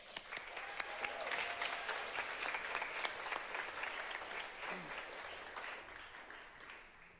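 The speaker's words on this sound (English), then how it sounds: "another round of applause for LR." A concert audience applauds a percussion performer, steady moderately distant clapping that holds evenly across the clip before tapering slightly, with no voices.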